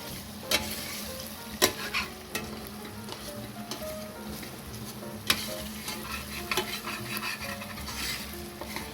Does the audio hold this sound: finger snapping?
no